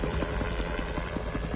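A survey helicopter flies overhead, its rotor beating in a steady rapid rhythmic thump over a broad engine roar, loud and close throughout.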